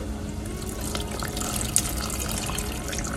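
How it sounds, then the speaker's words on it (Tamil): Water is poured steadily into a mixer jar while making a Tamil anchovy fish curry, a continuous close splashing and trickling with no talk. "அப்படியே இந்த ஜாரில் வந்து தண்ணி ஊற்றி அதையும் மிக்ஸ் பண்ணிக்கலாம்"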